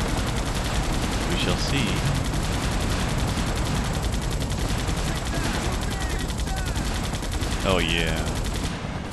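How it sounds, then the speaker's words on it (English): Rapid machine gun fire in the video game Earth Defense Force 2017, sustained and loud across the whole stretch, with someone talking briefly over the shooting. "I don't know what the range on this machine gun is"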